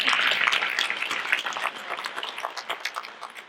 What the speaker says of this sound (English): There's like a light tap, a light clap, a beautiful light clap for the baby girl.